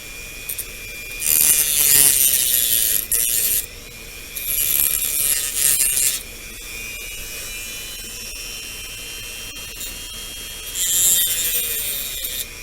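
A hand tool cuts notches into plastic model kit parts in three separate bursts of close, raspy scraping, with quieter gaps between them.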